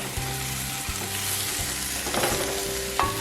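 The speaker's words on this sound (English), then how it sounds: "So I just want those to hit the heat a little bit so that they can bloom and do their thing." Garlic powder, paprika, cumin and turmeric sizzle in a hot pot, a loud, close, steady frying hiss broken by a few spoon knocks and stirring scrapes.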